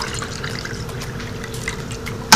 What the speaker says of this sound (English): you take the water out of your tofu because you don't need this water